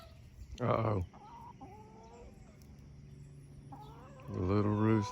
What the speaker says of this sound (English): The little rooster.